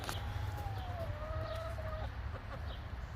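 Backyard chickens on a city homestead cluck and warble softly, a drawn-out tonal call near the middle over a steady low rumble of background noise.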